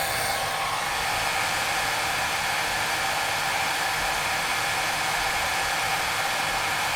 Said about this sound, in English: I got a hairdryer here